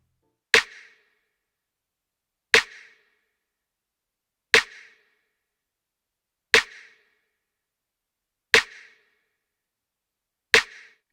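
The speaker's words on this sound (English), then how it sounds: "a basic tight snare layered with a click or clap sample." Layered electronic snare sample, a tight snare hit stacked with a click or clap, struck six times alone at an even two-second spacing, each hit a sharp crack with a short bright tail.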